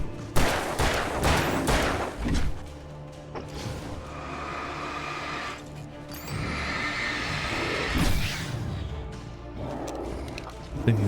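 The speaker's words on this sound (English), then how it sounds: "Thinking that's shotgun." Shotgun fire in Alan Wake, several loud, booming blasts spread across the scene among gameplay noise, with someone talking in between.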